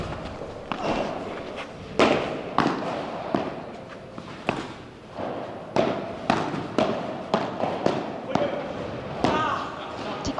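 A padel doubles match at an indoor Paris challenger tournament, with sharp ball strikes trading back and forth at the net in quick volleys, about a dozen hits at irregular intervals over crowd murmur and commentary.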